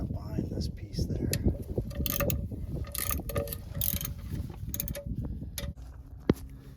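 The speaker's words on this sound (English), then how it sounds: "now I'll go ahead and start loosening all these bolts up around here" A ratchet clicks in rapid bursts as transmission pan bolts are loosened under a vehicle, with metallic creaks and taps close by and a person talking intermittently.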